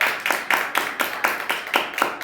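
Congregation clapping hands in a steady, even rhythm during a Christian worship sermon, about two claps per second, moderately loud with no voices over it.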